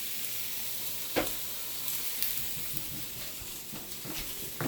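Turkey sausage sizzling in a pan with parsnips and caramelized red onion, a steady close frying hiss broken by a few sharp clicks and scrapes of stirring, with no talking.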